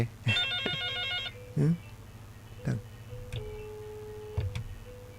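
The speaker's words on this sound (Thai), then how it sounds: "โทรศัพท์เข้ามาทางใด" One short warbling telephone ring sounds in a quiet room at a temple in Chiang Mai, followed by someone speaking and scattered soft clicks and knocks.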